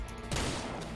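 A single sharp gunshot in the ranch video game Southwest Ranch Simulator goes off close and loud, then a short ringing decay fades over under a second.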